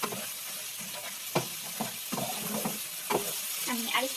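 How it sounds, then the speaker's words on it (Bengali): Masala spices for a hilsa fish dopiaza sizzling in a pan while being stirred, with repeated scraping strokes of a spoon punctuating a continuous close frying hiss. "আমার একটু সময় নিয়ে এটাকে ভুনা ভুনা করতে হবে মশলাটাকে"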